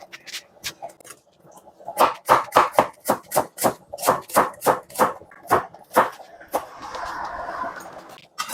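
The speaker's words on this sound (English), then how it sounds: "so I have to slice this onions now." A knife chops through onions on a board in a steady run of about fifteen crisp, evenly spaced cuts, close and fairly loud, for Nigerian coconut rice alongside turkey, with a softer scraping or sizzling wash near the end.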